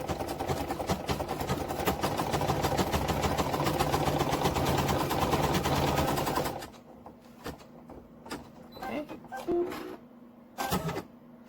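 Sewing machine stitching an appliqué ear onto a hooded unicorn towel, a fast steady whirring rattle for about six seconds before stopping, followed by a few short bursts.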